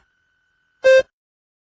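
A single short electronic beep, clean and isolated, lasting about a fifth of a second against silence.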